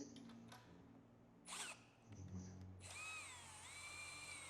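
A power drill lowering a motorcycle and e-bike carrier hitch lift at low torque, starting with short faint whirs and then settling into a steady, sustained whine that rises and falls slightly in pitch.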